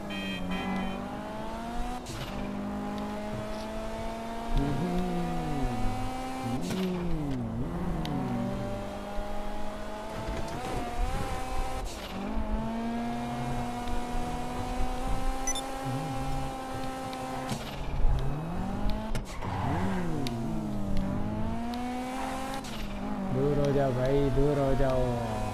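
Video game car in GTA 5 Online driving continuously, engine tones rising and falling with gear shifts and steering, close and steady throughout with someone talking over it.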